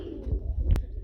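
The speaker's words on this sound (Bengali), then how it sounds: "খুবই সুন্দর ব্লু বার কালারের মধ্যে এক জোড়া স্প্যানিশ চরের কবুতর" Fancy pigeons offered for sale coo close by, giving soft low throaty calls, with one faint sharp click near the end.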